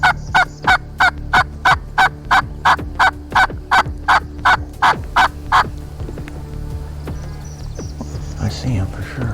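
A wild turkey gobbles during a turkey hunt in a rapid, evenly spaced burst of loud calls that fades into quieter rustling and low background noise near the end.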